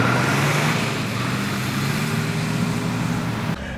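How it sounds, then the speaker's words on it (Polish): A Nissan Patrol GR Y61 with a 2.8 litre turbodiesel inline engine runs while driving, a loud, steady, truck-like drone mixed with road noise heard from inside the cabin. "Ale dźwięk tego rzędowego silnika sprawia wrażenie, jakbyśmy jechali naprawdę ciężarówką."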